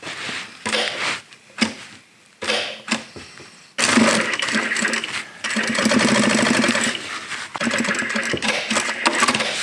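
Sewing machine stitching the seam of a plate carrier vest, short stop-start bursts of rapid mechanical chatter at first, then a longer continuous run of stitching up close.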